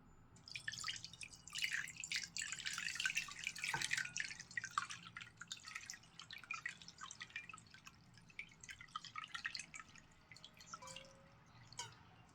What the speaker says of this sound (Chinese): 当然我们还得再用水给它冲一冲。